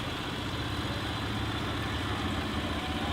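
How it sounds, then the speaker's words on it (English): A student-built quarter-scale tractor engine idles in a steady low rumble during the 2018 Hobo Day parade at South Dakota State, unbroken and fairly close with no speech. "South Dakota's quarter-scale tractor team,"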